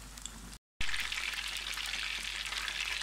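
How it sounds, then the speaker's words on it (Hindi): Rohu fish pieces frying in hot oil give off a steady, dense sizzle that runs almost without a break, cut once by a short moment of silence near the start. "हमारी मछली इसी तरह फ्राई हुई है"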